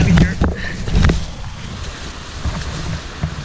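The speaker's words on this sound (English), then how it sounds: "You can hear the rapid beside us." River rapid on the Shawanaga River rushing beside hikers bushwhacking through thick brush, a steady broadband roar of water with wind buffeting the microphone and brief rustling bumps.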